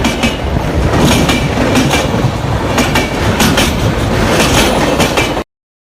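A train runs along its rails with a steady clickety-clack of wheels over track joints, loud and continuous, with brief metallic squeals, then stops abruptly near the end.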